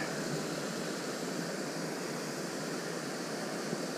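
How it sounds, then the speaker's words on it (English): A waterfall beside a bass-fishing spot, a steady, even hiss of rushing water that fills the whole stretch without pause, fairly soft and with no voices over it. "Just had to get away from the waterfall, throw it back over in there."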